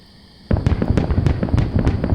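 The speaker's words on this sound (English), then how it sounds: "the lighting is accurate for the fireworks themselves, including the glow coming off of the trails at the end once it's burst" Virtual fireworks in the Ranma VR video game burst in a quick, dense volley, sharp cracks and pops repeating about every quarter second after a brief quiet start, loud and close.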